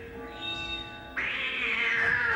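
A cat lets out a long, drawn-out meow that starts abruptly midway and holds loudly to the end over a faint background hum.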